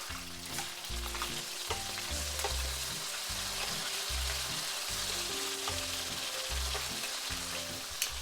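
Bluegill fish fry with Indian spices in a pan, a steady close sizzle crackling throughout at moderate loudness while a low rhythmic pulsing hum runs underneath; no talking.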